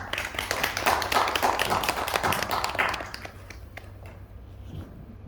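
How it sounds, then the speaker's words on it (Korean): An audience at a lecture on urban regeneration claps to welcome a philosophy professor, a brisk scatter of hands that thins out after about three seconds and leaves only a few faint claps. "여러분 큰 박수 부탁드립니다."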